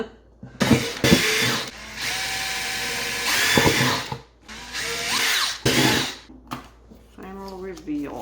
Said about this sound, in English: you still need to drill holes